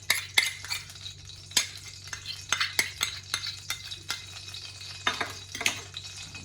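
Dates roast in ghee in a pan for dry fruit ladoo, a low sizzle under repeated sharp clicks and scrapes of a utensil against the pan in an uneven rhythm.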